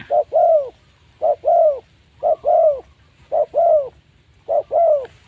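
Spotted dove in a cage or room, cooing in repeated paired phrases roughly every second, close and clear against a quiet background with no talking.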